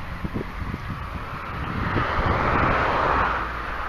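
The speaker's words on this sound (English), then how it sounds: "It's a nice breeze here." An outdoor breeze buffets the microphone on a stubble field beside a road. It gives a soft low rumble that swells toward the middle, with faint scattered ticks underneath and no speech.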